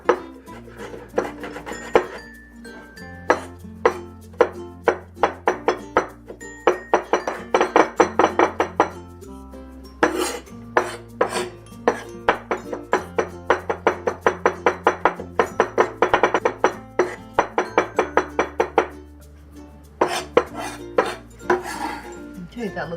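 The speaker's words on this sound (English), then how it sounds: "we'll start with mincing the garlic" A knife minces garlic on a cutting board in quick, rhythmic bursts of close, crisp knocks, separated by short pauses as the chopping stops and restarts, with no talking.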